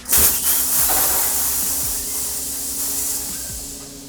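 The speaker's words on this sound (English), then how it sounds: "you just want to let the air out of your shock" Air hissing loudly out of the rear shock valve on a Turbo Levo mountain bike, a close, steady rush that starts abruptly and slowly fades over four seconds.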